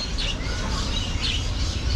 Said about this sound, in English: Now we're in the bird aviary that we were in this morning on our tour.